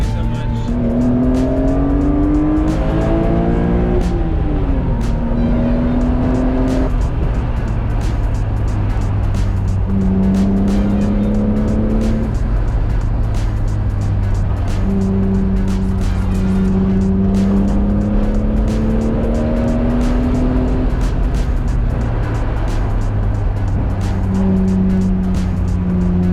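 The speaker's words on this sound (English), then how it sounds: "I'm trying to drive the car like I stole it" Car driven hard up a mountain canyon road, engine revving and shifting continuously up close with repeated tire squeals through the corners, loud and sustained.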